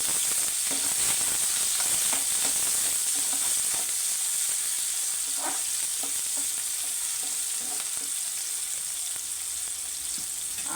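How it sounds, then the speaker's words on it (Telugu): Thinly sliced onions fry in a hot pan for a carrot fry, giving a continuous bright sizzle with occasional stirring scrapes, steady and close throughout with no voices. "ఆనియన్ కొంచెం లైట్గా వేగనివ్వాలి ఉల్లిపాయ ముక్కలు వేగాయండి"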